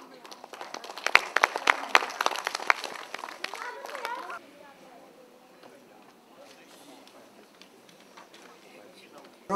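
Audience at the 8th Manipur State Film Festival applauding the jury chairman, a few seconds of scattered clapping and crowd noise that fades into quiet murmuring room sound.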